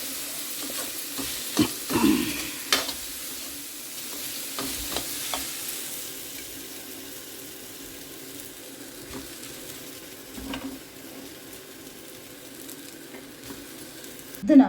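Grated raw mango and cooked rice are stirred in a pan with a soft background sizzle, broken by scattered scrapes and knocks of a spoon against the pan.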